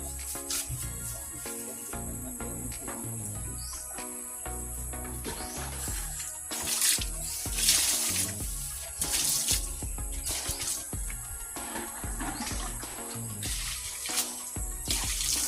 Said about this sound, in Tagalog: Manlawan ng tubig.